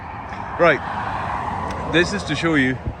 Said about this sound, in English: Right over there is the main motorway from Sweden to Denmark.